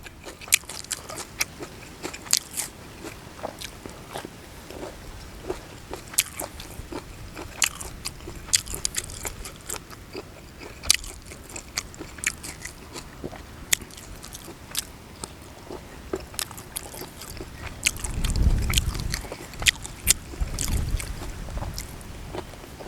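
Crunchy baby squid tentacles with a spicy dipping sauce are chewed close to the mic in steady, repeated crisp bites that continue throughout, with a deeper thump near the end and no talking.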